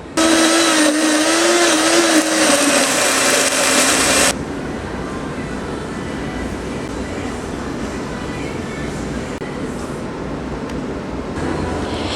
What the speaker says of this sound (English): We're gonna puree the berries